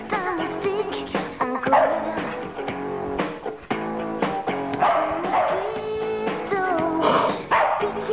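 A dog barks and yelps repeatedly in a French night-time radio drama, close and loud, in an uneven run of barks.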